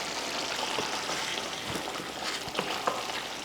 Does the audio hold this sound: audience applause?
no